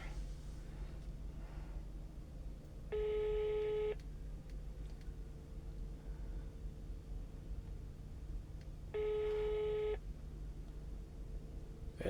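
A phone call ringing tone, two electronic tone bursts about a second long and six seconds apart over a quiet, faintly hissing line.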